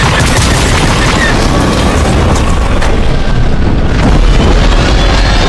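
A TIE fighter being destroyed in a Fortnite Creative video game, a loud, continuous barrage of booming explosion and gunfire-like crackle that fills the whole stretch, swelling slightly near the end.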